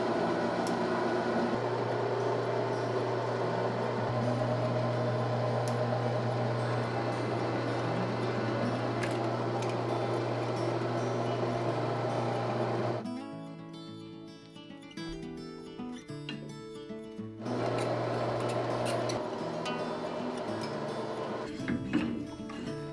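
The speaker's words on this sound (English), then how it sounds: "then I can start the threading process" A lathe cutting threads on a custom gun barrel gives a steady mechanical whir with a grinding edge, dropping to a quieter hum partway through before the cutting noise returns.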